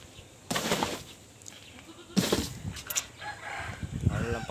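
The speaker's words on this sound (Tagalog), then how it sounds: "Mga kambing natin oh." Several goats bleating while they eat, with a few loud close calls spaced across the clip and softer bleats and rustling between them.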